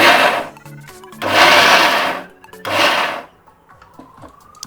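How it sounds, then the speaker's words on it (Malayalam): Mixer grinder pulsing wheat flour, three short loud bursts of whirring motor, each about a second long and separated by brief pauses, ending with faint clatter as it stops. "ഇത് മിക്സിയിൽ അടിക്കുമ്പോൾ നന്നായി അടിക്കരുത്."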